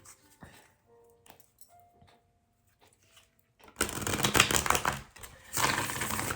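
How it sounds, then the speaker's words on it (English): Tarot cards being shuffled by hand, a quiet riffling and tapping at first, then a loud, dense burst of rapid card riffles filling the second half, close to the microphone. "I got to shuffle it again"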